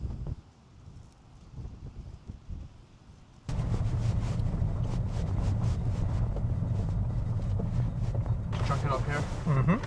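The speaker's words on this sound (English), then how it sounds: "It is windy. It is indeed." Wind buffets the microphone by a cliff in New Zealand, a low rushing roar that jumps louder partway through and stays strong, with voices talking faintly underneath.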